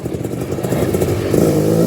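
A 330R three-wheeler ATC engine runs loud and close at a steady, buzzing idle with a slight rise in revs near the end, its rough exhaust note heard alone.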